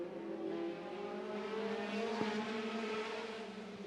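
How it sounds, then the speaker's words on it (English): Midget race cars roar around the track in a continuous, loud engine drone with shifting pitch as they jostle for position, no talk over it. "Jones looks to the inside of Sawyer Lind, and he will take the lead."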